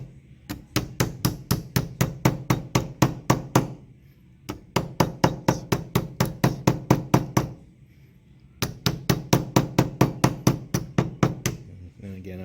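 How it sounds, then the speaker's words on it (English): A hammer strikes a copper pipe ring to bring it down to size, delivering three bursts of rapid, evenly spaced metallic knocks separated by brief pauses, close and loud. "So to get this to be down to the right size, I'm going to use this hammer."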